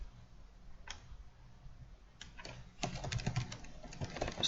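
Quiet computer-keyboard typing starts with a couple of isolated clicks, then becomes a quick, close run of light key taps in a hushed room.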